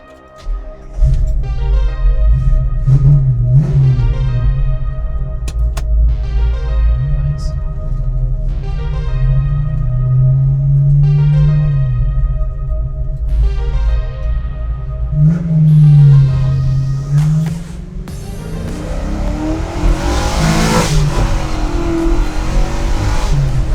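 A 1968 Ford Mustang with a 435 hp engine built from junkyard parts, its loud V8 rumble revving hard and climbing in pitch through repeated throttle blips as it drives off, steady and close throughout.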